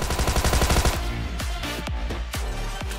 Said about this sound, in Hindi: तो भाई बगल में कुछ गोलियाँ चल रही होती